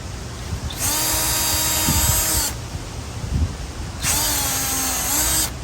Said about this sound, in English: Now we just got to drill.